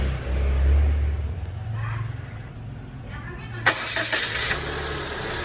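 A Peugeot 206 with a weak battery starts up: a low engine rumble swells at the start, then a sharp click and a burst of brighter mechanical noise follow, with voices faintly in the background.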